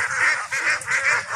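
White Pekin ducks quack in four loud, close, nasal honking calls in quick succession, with no one talking.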